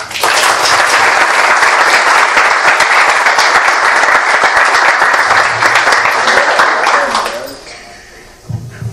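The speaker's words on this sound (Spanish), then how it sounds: "Recibamos con un fuerte aplauso al profesor Pedro del Vasco" A packed lecture hall welcomes a professor with loud, dense applause that continues for about seven seconds before fading, followed by a brief quiet and a voice starting to speak.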